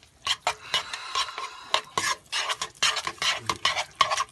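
Raw eggs being stirred into basic choux pastry dough for chocolate eclairs in a home kitchen, a close, repeated scraping and sloshing of a utensil working the thick paste in quick irregular strokes.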